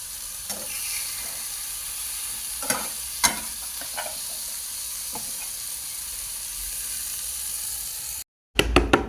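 Eggplant bharit mixed with crushed peanut powder and a little coriander sizzles steadily in a pan, with a few soft knocks and scrapes of stirring scattered throughout, then a brief cutoff near the end.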